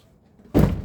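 A door shuts indoors with a single dull, heavy thud after a quiet moment, close and brief.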